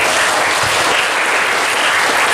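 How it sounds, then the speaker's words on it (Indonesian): An audience at a Hindu children's festival in Indonesia claps in a thick, continuous burst of applause, loud and even throughout without any voices. "Tepuk tangan untuk beliau."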